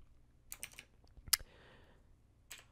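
Keyboard keys clack in sparse, quiet clusters on a computer keyboard, a few separate taps followed by one sharper, louder keystroke and a final pair near the end, with no talking.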